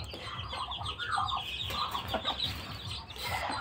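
Hen with a damaged neck brooding chicks, clucking in a run of close, quick repeated calls that rise and fall over a few seconds.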